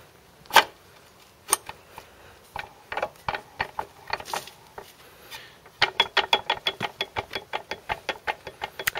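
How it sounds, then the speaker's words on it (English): The gearbox selectors on a Land Rover Series 3 are worked by hand, giving a string of close metallic clicks and clunks, sparse at first, then a rapid, even ratcheting run of clicks toward the end. "Selectors all seem to work okay though. I think that's the reverse gate."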